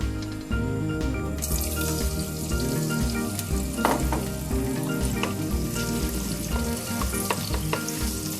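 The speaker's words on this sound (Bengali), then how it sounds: "একই প্যানে আমি ডিমটাকে ভেজে নিচ্ছি।" An egg frying in a pan already used for shrimp while mixed Chinese noodles are prepared, a dense, steady sizzle with scattered crackles and spatters, close and continuous, with no voices.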